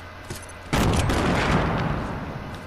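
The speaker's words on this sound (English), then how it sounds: "Stop blowing up houses." Explosions from houses being blown up in Fortnite Battle Royale, with grenades in play: a faint click, then a sudden loud blast that rolls into a sustained rumbling roar of debris fading slowly.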